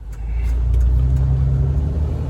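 A steady low engine rumble comes from a Jeep out on a test drive after U-joint repairs, heard close from inside with faint road noise and no talking.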